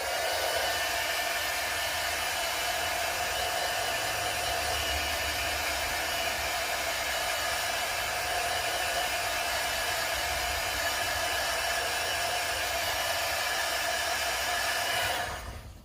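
Heat tool blowing continuously to dry watercolor on a handmade card, a steady close rushing hiss held for about fifteen seconds before cutting off.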